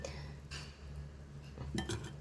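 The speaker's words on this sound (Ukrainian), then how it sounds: "Все це треба перемішати." Quiet scraping and light clinking of a utensil stirring pumpkin pancake batter in a bowl, a few soft strokes with no voices.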